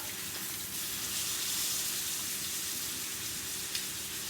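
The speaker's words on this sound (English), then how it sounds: "I'm going to flip my steak now." A steak sears in a cast iron pan with a little soy sauce, giving a steady close sizzle and hiss that swells slightly as the meat is flipped, with no talking.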